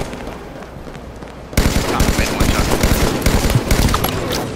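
Sustained automatic gunfire in the shooter game Halo 5 starts abruptly after a quieter moment, then continues as loud rapid bursts.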